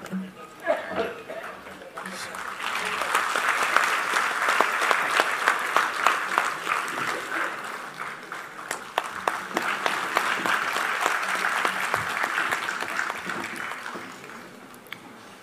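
An audience at a public talk on politics and social work claps loudly and steadily for over ten seconds, a dense sustained roar of applause with a voice heard briefly at the start.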